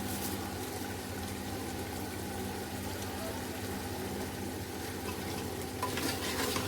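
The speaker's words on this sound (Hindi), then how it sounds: "इसको 1-2 मिनट बस भून लेते हैं।" Steady sizzling of mutton and tinda (Indian round gourd) frying in a pan, a continuous hiss with faint stirring and scraping, fairly quiet and close.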